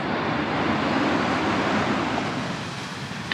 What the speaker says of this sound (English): Oh, those waves coming in.